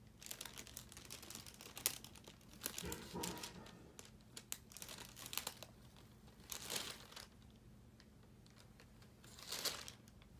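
Thin plastic wrap crinkles and crackles in irregular bursts while being handled and cut for a DIY shirt transfer, fairly quiet and close, with soft gaps between the rustling episodes.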